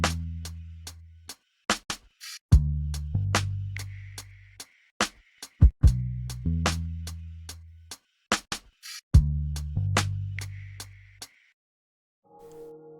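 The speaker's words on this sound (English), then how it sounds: "let me play it with the drums so you can hear how it goes with the drums." Modo Bass Studio Bass played together with a drum loop: deep sustained bass notes in a repeating line under punchy kick and snare hits and light hi-hat texture, with no voices.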